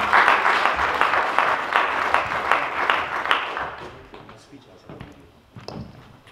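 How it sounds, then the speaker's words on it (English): An audience at a Ghanaian community event in Amsterdam applauds after a drama performance. The clapping is loud at first, then thins and fades, with footsteps and a few thuds and crowd voices mixed in. "Big applause to the drama."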